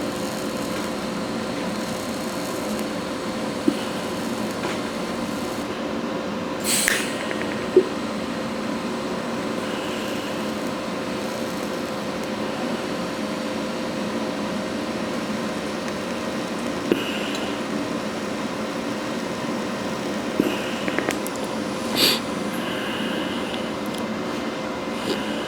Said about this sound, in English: Go back through and just kind of smooth my weld out.